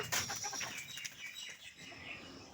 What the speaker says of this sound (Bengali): মুরগিগুলো সব ওই যে খাঁচার মধ্যে ঢুকছে